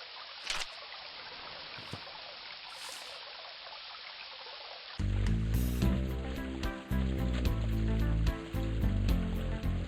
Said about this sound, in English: You fill your flask with water.